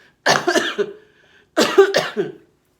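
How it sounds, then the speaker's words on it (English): Two separate bursts of coughing, each a cluster of two or three harsh, close coughs, with a short quiet pause between them. "There's that cough I was trying to get rid of."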